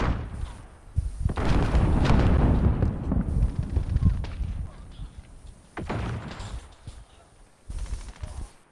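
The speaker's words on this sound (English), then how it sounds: "Throwing grenade!" Grenade blast in the shooter Modern Warfare, a heavy low rumbling boom swelling early and lingering, followed by several shorter sharp bursts of game combat noise, with people talking intermittently.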